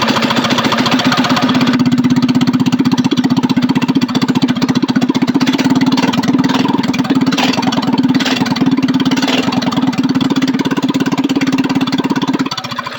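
A Coleman CT200U-EX trike engine runs with no muffler fitted, giving a loud, steady, raw idle with a rapid exhaust chatter that holds for about twelve seconds before cutting off near the end.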